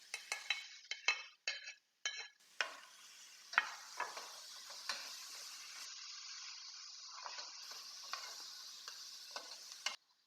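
Pepper and tomatoes cooking together in a single pot, a quiet sizzle broken by a run of sharp utensil clinks and scrapes against the pot early on, then steadier cooking noise, with no talking.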